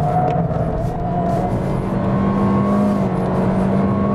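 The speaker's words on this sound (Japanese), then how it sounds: "今みたいに M で乗ればアクセル踏むとグッとこうダイレクトに加速する感じ" Toyota Corolla Sport with a CVT accelerating in manual mode, the engine droning steadily with a rising hum and tire and road noise from inside the cabin, loud and continuous.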